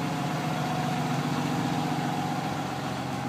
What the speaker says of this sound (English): we're at high idle, so you might be hearing a lot of noise